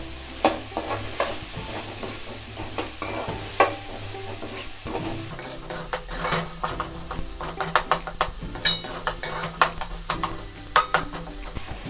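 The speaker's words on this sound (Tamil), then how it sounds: "தக்காளியை சேர்த்துட்டு நல்லா கலருங்க." Tomatoes and onions sizzle and fry in a pan for crab masala while a spoon stirs them, with repeated scraping clinks over a constant close frying hiss; no talking.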